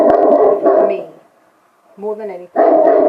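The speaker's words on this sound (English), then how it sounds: "That's my dog." A dog gives a short whining bark between stretches of a person talking, close and fairly loud, with the speech dominating before and after it.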